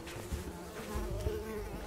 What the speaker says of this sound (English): What are these, wasps?